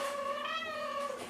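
A Ragdoll kitten lets out one drawn-out, fairly quiet meow with a slightly wavering pitch, heard close and alone for just over a second.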